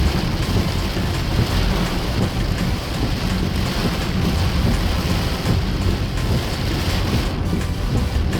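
A heavy January rainstorm in Monrovia, Liberia pours down as a loud, dense, unbroken roar of rain hitting surfaces, steady for the whole stretch with low rumbling mixed in and no voices.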